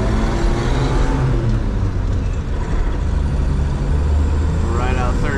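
A 1950 Chevrolet 3600 pickup truck pulls away in second gear, its engine droning loud and steady with low rumble and road noise throughout, heard from inside the cab without talk.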